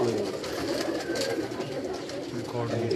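Pigeons coo on a Karachi rooftop loft, a steady low murmur of overlapping calls running throughout under someone talking close by.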